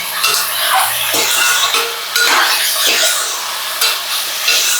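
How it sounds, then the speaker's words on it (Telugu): Curry leaves chicken fries in oil, with a loud, close sizzle and repeated stirring scrapes of a utensil against the pan. "బాగా వేయించుకోవాలి ఫ్రెండ్స్, రెడ్గా వేయించుకోవాలి"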